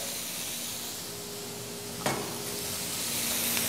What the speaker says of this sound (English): I just want to sear that meat off really well